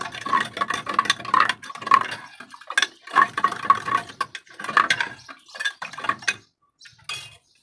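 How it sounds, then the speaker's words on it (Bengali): A metal spoon clinking and scraping inside a glass or bowl as burnt mango paste is mixed into water, irregular bursts of close, bright taps and scrapes with short pauses between strokes. "এরপর আমি এই চামচের পিছনের সাহায্যে আমটাকে আমি পেস্টটাকে পানির সাথে মিলিয়ে"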